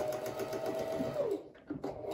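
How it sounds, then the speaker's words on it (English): A sewing machine stitching fabric, including a few backward stitches, a close steady mechanical whirr that slows and stops near the end, followed by a couple of brief clicks, no talk. "make a few backward stitches and then stitch off the end of the fabric"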